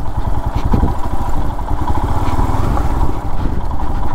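Adventure motorcycle engine running steadily nearby, a throbbing mid-pitched idle with loose mechanical clatter, loud and continuous with no talk.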